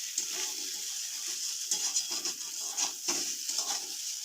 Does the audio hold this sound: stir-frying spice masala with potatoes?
yes